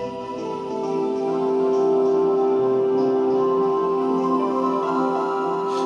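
Audiofier Aerkord synth patch with its crystals layer removed, a steady sustained chord pad with a bright tonal drone, slowly swelling in and then holding evenly, alone with no voices.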